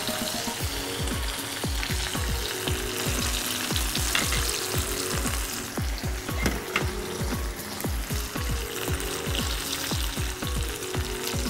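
Potatoes frying in hot oil until crisp and brown, a steady loud sizzle with a run of sharp clicks and scrapes throughout, no voices.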